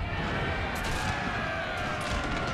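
Cannon and gunfire from a Total War battle set in the Thirty Years' War, a dense continuous roar of distant shots and booms with no clear pauses.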